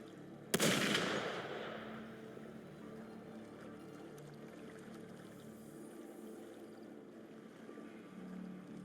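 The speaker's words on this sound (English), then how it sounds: "Gunfire!" One sharp gunshot in the video game Wuthering Waves, a sudden loud crack with a lingering rumbling tail, then low ambient drone for several seconds.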